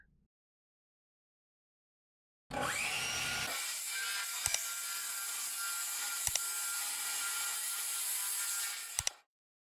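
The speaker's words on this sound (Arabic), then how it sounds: "ابدا بقى اقص الخشب ده لشرايح شرايح" A power saw starts abruptly and cuts pallet wood into strips with a steady, loud, high-pitched buzz for about seven seconds, with a few sharp clicks, then stops.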